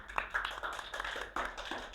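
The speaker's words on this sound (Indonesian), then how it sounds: "Beri tepuk tangan dulu dong." Scattered hand clapping from a small student audience at a school podcast recording, uneven and fairly close, with irregular claps spread across a couple of seconds.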